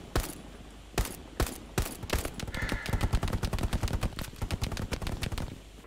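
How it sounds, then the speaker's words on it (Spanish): Gunfire in the WWII shooter game Hell Let Loose: sharp single rifle shots at first, then a rapid burst of automatic fire crackling in quick succession, loud and close with battlefield ambience beneath. "He escuchado disparo alemán."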